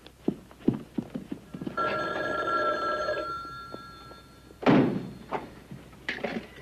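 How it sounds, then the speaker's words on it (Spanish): A telephone bell rings in one sustained burst of about a second and a half, with scattered thumps and knocks before and after it and a loud bump near the end. The scene comes from a 1979 vampire film. "Es mi teléfono."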